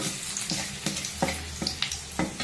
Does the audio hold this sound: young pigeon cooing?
no